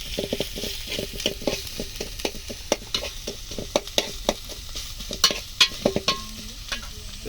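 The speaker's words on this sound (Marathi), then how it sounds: "थोडा लाल करायचा कांद्याला मित्रांनो" Onions stir-fry in a pan over a village wood fire for spicy chicken, with a steady sizzle under a busy run of close spatula scrapes and clinks against the pan, and no voices.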